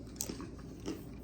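Quiet, close crunching of dry, crisp lime plantain chips being bitten and chewed, with a few sharp crackly bites in a short burst.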